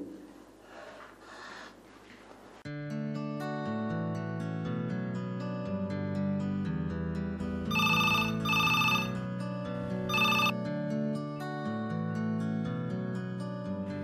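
A phone's electronic ringtone plays as a looping melodic tune for most of the clip, close and clear, after a brief stretch of muffled background sound at the start.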